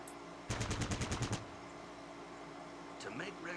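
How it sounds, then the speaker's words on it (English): A rapid burst of automatic gunfire aimed at a training dummy in the video game Fallout Tactics, about ten shots in a quick rhythm over a steady hum, followed by a brief fainter effect. "Target the dummy, and left-click to fire at it."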